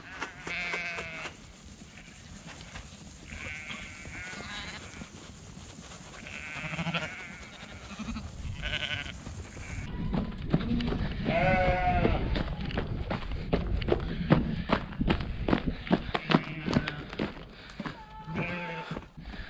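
Shearling sheep bleating repeatedly, some calls overlapping, while hooves shuffle and clatter as the flock is moved in on a farm being vaccinated against toxoplasmosis and enzootic abortion; someone talks briefly in the background.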